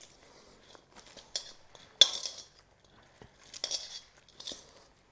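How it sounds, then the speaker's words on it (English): Quinoa stirred with a utensil in a pot or bowl to cool it, giving scattered light scraping and clinking sounds, a sharper clink near the middle and soft bursts later, quiet and close with no talking. "I'm just stirring it, and the reason I'm stirring it is it helps to cool the quinoa down."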